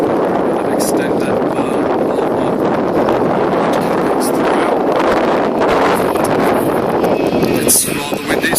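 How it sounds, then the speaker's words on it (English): Strong wind buffets the microphone outdoors beside a black Range Rover P38 4.6 HSE, a steady loud roar of gusts and rumble running throughout the whole stretch. "It's rather windy, so I'll excuse the buffeting noise of the wind"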